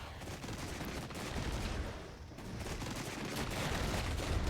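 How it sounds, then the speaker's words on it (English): Airstrike gun run on BMP-2 armored vehicles in the war game Regiments, heard as a dense, sustained roar of rapid gunfire and explosions that swells and dips over several seconds. "I'm gonna call in another gun run on these BMP-2s"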